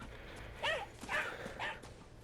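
A pet dog in the video game Wayfinder gives three short barks spaced about half a second apart, fairly close and clear over a faint steady background hum.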